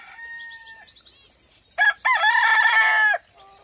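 A rooster in an aviary crows one loud, close cock-a-doodle-doo after a few soft clucks and chirps from the birds around it, then goes quiet again.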